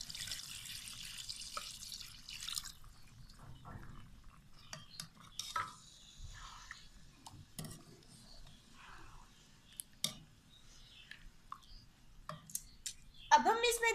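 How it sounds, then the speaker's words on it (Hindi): A glass of water is poured into a pot of simmering fish curry, with soft splashing and trickling, scattered light clinks and stirring, then a brief louder burst near the end. "अब हम इसमें 1 गिलास पानी डाल देंगे।"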